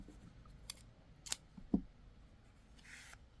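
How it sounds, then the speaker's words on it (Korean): Scissors snip spare crochet yarn at close range, a couple of quick faint clicks and cuts in an otherwise quiet room with no talking. "이제 여유실을 잘라줍니다."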